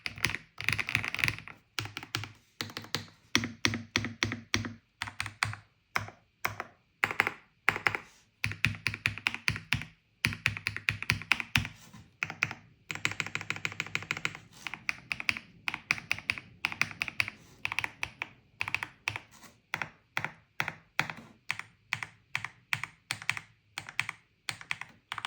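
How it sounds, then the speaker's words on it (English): Rapid keystrokes on an Epomaker TH85 mechanical keyboard, close up, with bursts of fast typing and brief pauses; individual keys clack with slightly different tones. "you can hear a few different sounds based on which keys are being pressed"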